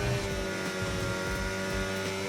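A Formula 1 race car engine drones steadily in simulated driving at the Marina Bay street circuit in Singapore, holding a loud, sustained tone through the short stretch with no voices.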